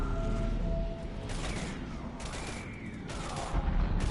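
Gunfire in a shooting video game battle, heavy repeated bursts and booms layered over a constant roar of combat noise, loud and close throughout.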